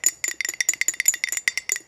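Dice being shaken hard in a container, a rapid series of bright clicking rattles about a dozen quick hits in under two seconds, close and alone.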